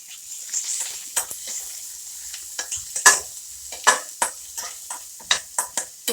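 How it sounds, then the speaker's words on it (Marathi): Long-sliced onion and green chillies fry in a pan for veg pulao, a low sizzle broken by repeated scraping stirs and light clinks of a spoon against the pan, close and without speech. "त्याच्यातच कांदा टाकायचा आपल्याला."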